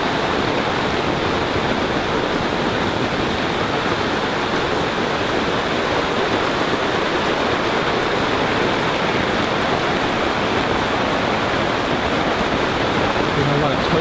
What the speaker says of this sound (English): you can see just the sheer amount of water coming off.